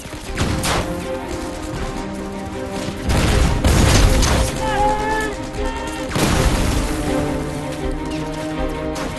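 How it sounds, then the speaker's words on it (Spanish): Gunfire and grenade blasts in an attack on a German bunker: a dense, loud barrage of shots with heavy booming bursts rising and falling throughout, under faint voices. "Los miembros de la compañía Fox usaron granadas y disparos para forzar la rendición del búnker alemán en Hilltop"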